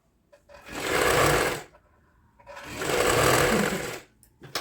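A sewing machine stitching a kurti sleeve runs in two steady, close whirring bursts of about a second each, separated by a short pause, with no talk over it.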